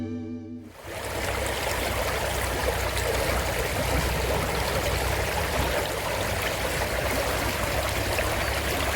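Water in a stream flows through a Himachal village, a steady loud rushing and trickling that fills the clip alone after a brief quiet start.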